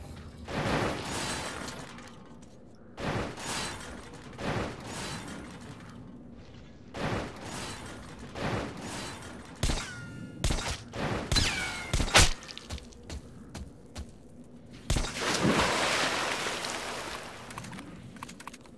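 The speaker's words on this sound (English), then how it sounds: "Hearing gunshots" Gunfire rings out in the video game Metro Last Light: sharp, scattered shots and short bursts separated by pauses, some loud and close, others fainter, with metallic clatter between them.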